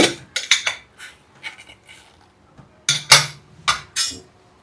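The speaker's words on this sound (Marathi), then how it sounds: "आता आपण कुकर खोलूया" Metal clanks and scrapes as the lid of a pressure cooker is worked open in a home kitchen, a series of sharp clinks in two bursts separated by a quiet pause, close and without talk.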